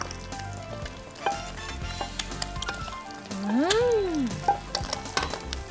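Food sizzles steadily in a hot pan as it is pan-fried, with scraping stirs and clatters of a utensil; a brief rising squeal cuts through midway.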